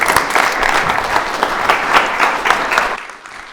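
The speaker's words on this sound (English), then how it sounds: "Another round of applause" A full room of event attendees claps steadily at The Next Great Idea 2023 pitch showcase, loud dense applause holding for about three seconds before cutting off sharply into quiet.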